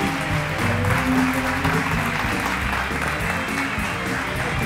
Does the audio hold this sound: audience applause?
yes